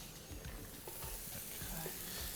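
Chopped onion goes into a hot pan where tofu is frying, giving a soft, steady sizzle with a few stirring scrapes and knocks close by.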